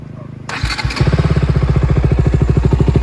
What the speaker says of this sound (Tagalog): Naka full exhaust na mga boss, Akrapovic muffler.